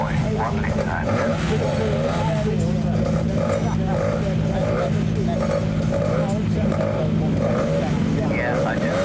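Bellamy 438 Special hillclimb car with a 4.1 litre engine at Prescott Hillclimb, a loud engine drone with shifting revs held throughout, with a commentator talking over it.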